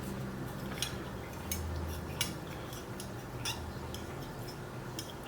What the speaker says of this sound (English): To use the spoon with the fork to wind your pasta up.